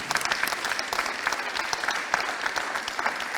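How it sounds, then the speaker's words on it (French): A seated audience at a maritime solidarity evening applauds loudly and steadily, many hands clapping in a dense, continuous patter that stays strong for over three seconds with no speech. "On va vous applaudir très fort"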